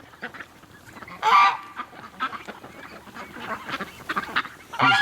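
Ducks let out of their pen on a winter morning, eating rutabaga leaves in a garden, give loud, close honking and quacking calls in repeated bursts, with the strongest outbursts near the start and the end.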